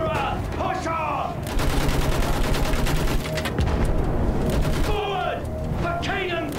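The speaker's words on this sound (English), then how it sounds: "Machine gun, move them down." Rapid, sustained machine gun fire in a Battlefield 1 World War I trench battle, dense bursts of shots running almost continuously with explosions, over a loud battlefield din with voices shouting in the mix.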